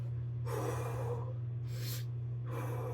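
Three heavy, audible breaths between workout sets on a bar, each a loud gasping inhale or exhale separated by short pauses, close to the mic over a steady low hum, with no talking.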